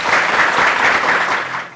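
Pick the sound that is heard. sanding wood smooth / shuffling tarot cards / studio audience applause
studio audience applause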